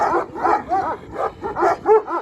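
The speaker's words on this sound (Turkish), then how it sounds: "Evet, bu köpekleri denk getirmemeye çalışıyoruz." Dogs in a village bark close by in a quick series of about seven sharp, yipping barks with short gaps between them.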